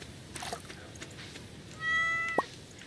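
A single short cat meow sounds out over quiet background noise, preceded by a soft tonal chime.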